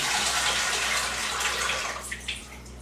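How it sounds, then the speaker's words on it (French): Boiled potatoes being drained, water pouring in a loud steady rush that fades toward the end with a few splashes and drips. "Allez, on égoutte les patates."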